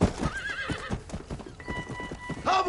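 Horse hooves clip-clop close by while the horse whinnies loudly in the Western video game Red Dead Redemption, with a rising neigh early and another whinny near the end.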